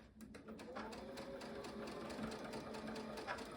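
A sewing machine stitches a quilt block seam for an Ohio Star, its needle running in a rapid, steady mechanical clatter, close and continuous but fairly quiet.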